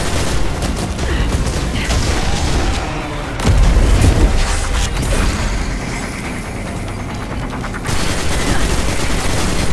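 Rapid, loud bursts of weapon fire in Destiny 2, a sustained barrage of shots and booms that swells and pauses, with little talk over it.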